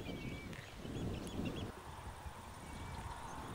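Birds calling across the meadows and open water of a nature reserve near the coast, a few faint honking, goose-like calls over a steady wash of outdoor ambience, distant and soft.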